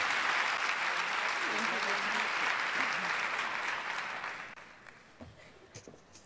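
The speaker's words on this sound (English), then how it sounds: "Please give her a round of applause." Audience applause for Minister Julie Bishop at a UN International Women's Day observance, a steady wash of clapping from a large hall that fades out after about four seconds, leaving scattered claps.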